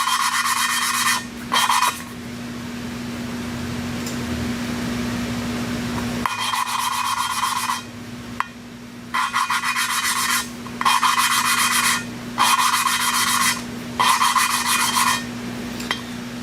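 Valves on a Nissan VQ35DE cylinder head are lapped by hand, making repeated bursts of gritty rasping and rubbing in an uneven back-and-forth rhythm over a steady low hum, close and fairly loud.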